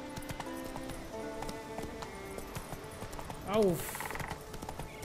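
Hooves of a galloping horse in The Witcher 3: Wild Hunt, a rapid steady clip-clop rhythm under game music, with someone speaking briefly and a whinny near the end.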